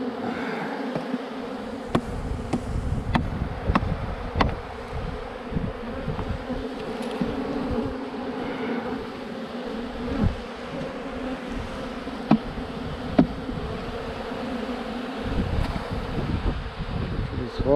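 Honeybees from a drone-laying colony swarm and buzz as the frames are shaken out, a dense, continuous hum close to the microphone with occasional sharp knocks and wind noise.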